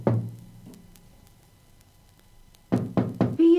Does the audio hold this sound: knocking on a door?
yes